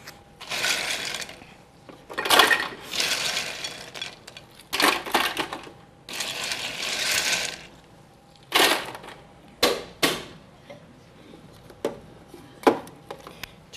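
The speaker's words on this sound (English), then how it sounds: "If you have a cool snow cone machine, you just fill up the top right here with ice." A snow cone machine grinds and shaves ice in a string of loud mechanical bursts, some long and some short, separated by brief pauses.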